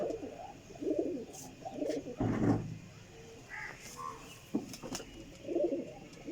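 Pigeons cooing in a loft, low rolling coos repeating in short bursts at moderate distance, with a crow-like caw and scattered background noises between them.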